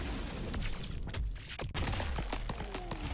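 Explosive bursts and cracking impacts from a Mortal Kombat fighting game trailer, with a gory ribcage explosion amid dense, booming cinematic effects, loud, rapid and layered over a few seconds.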